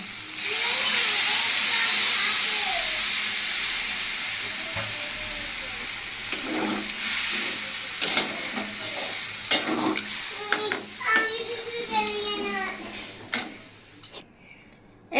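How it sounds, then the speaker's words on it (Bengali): Water is poured into a pan of frying soybean curry, setting off a loud, rushing hiss of steam that fades over several seconds into spluttering bubbles and stirring clatter. "এখন আমি আন্দাজ অনুযায়ী জল দিয়ে দিচ্ছি"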